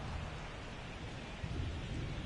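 Heavy rain pours steadily over a baseball field during a game, a dense, continuous hiss with low rumbling underneath and no pauses.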